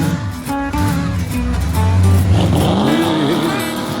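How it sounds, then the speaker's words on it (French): A hot rod truck engine on a drag racing track roars and revs loudly, its pitch climbing and dropping through several sweeps, with music playing underneath. "Le camion Hot-Rod de GF en met plein la vue et les oreilles"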